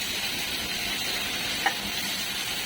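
Onion, green chilli and curry leaves frying in white oil in a pan, a steady faint sizzle with one small tap of utensil partway through.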